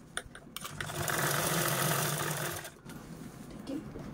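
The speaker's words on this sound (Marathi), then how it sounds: "तर चला आपण या साईडने अगोदर स्टिच करून घेऊया।" A sewing machine stitches fabric in a close, loud steady whirring run of about two seconds, with softer handling clicks before and after.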